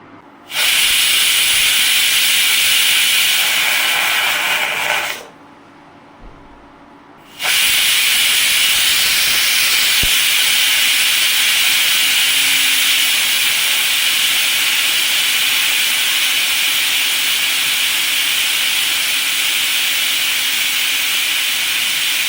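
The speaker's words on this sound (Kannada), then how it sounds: "ಈ 2 ವಿಷಲ್ ಕೂಗಾಗಿದೆ." A pressure cooker on an induction stove, cooking quinoa millet pongal, lets out a loud, sustained hissing steam whistle up close. After a short silent break a second long whistle follows, with no one talking.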